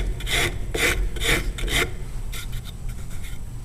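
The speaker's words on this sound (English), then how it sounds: "So you can start rasping that to get that rounded." A rasp filing a wooden edge to round it over, making about five strong, rhythmic scraping strokes followed by several lighter, quicker passes, close up with no talking.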